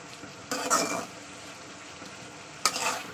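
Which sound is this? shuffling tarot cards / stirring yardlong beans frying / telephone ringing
stirring yardlong beans frying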